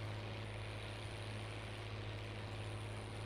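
An airplane in the Farming Simulator 19 video game drones with a steady, low engine hum and a constant propeller tone, even in level and unchanging, with no talk over it.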